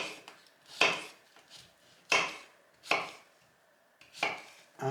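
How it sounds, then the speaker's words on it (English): A knife chops through zucchini on a cutting board in five sharp, evenly spaced knocks, close and clear, with no talking. "We're almost done with slicing and cutting the zucchini."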